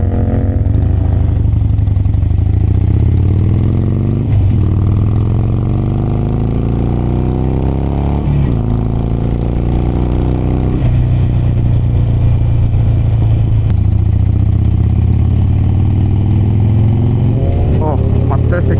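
Motorcycle engines on the Kolar highway make a loud, continuous drone that rises and falls in pitch as the riders accelerate and ease off, with wind rush underneath throughout.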